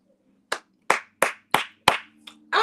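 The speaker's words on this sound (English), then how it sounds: "I'm clapping for myself because this cookie is so good, y'all." One person claps about six times in a quick, slightly uneven rhythm. The sharp, close claps stand alone over near-silence.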